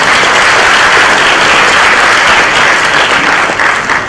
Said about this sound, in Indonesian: Tepuk tangan dong untuk UI.